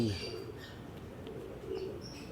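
Young pigeons in a loft give soft, low cooing over quiet background rustle, faint and close, with a few brief chirps.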